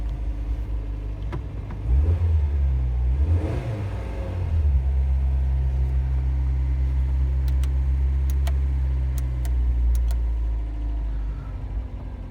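A Ford Fiesta MK3 with both rear wheels collapsed, its engine starting and then idling steadily nearby in a loud low rumble with a short rev early on and light ticking sounds later.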